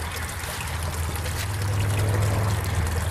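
A pump-driven garden pond waterfall pours steadily and continuously nearby, a full splashing rush of water over a low rumbling hum, with no voices.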